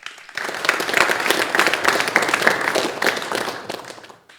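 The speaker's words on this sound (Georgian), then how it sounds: "აპლოდისმენტები." Audience applause at the GAMA MATRIX conference: a full, dense burst of many hands clapping together, sustained for about four seconds before tapering off.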